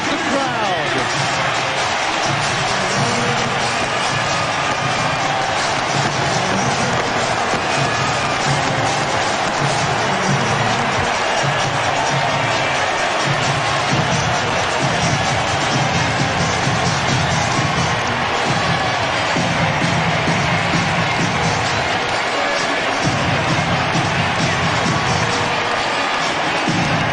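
A basketball arena crowd at a 2005 Bulls versus Wizards playoff game roars and cheers without letup, a dense, loud wash of noise under an announcer's ongoing commentary.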